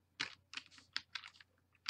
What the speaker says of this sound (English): I'm going to type, I will put my caps lock on because they're all capital letters.